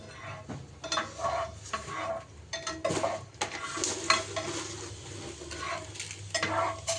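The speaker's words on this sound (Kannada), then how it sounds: "ಆಯಿಲ್ ಹಾಕ್ಕೊಂಡು ಬಿಸಿ ಆದ್ಮೇಲೆ ಬಿಟ್ಟು ಪಪ್ಪು ಹಾಕ್ಕೊಂಡು ಚೆನ್ನಾಗಿ ಮಾಡ್ಕೊಬೇಕು, ಫ್ರೈ ಮಾಡ್ಕೊಬೇಕು" Dal fries in hot oil in a pan for mango rice, a steady crackling sizzle with frequent scraping stirs of a utensil against the pan, close and fairly quiet.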